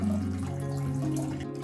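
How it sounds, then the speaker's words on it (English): A homemade bamboo water fountain driven by a submersible pump gives a steady, continuous trickle and splash of running water with a low, even hum underneath, close and unbroken throughout. "The sound of running water always gives a calming effect and provides a tranquil atmosphere in any indoor or outdoor space."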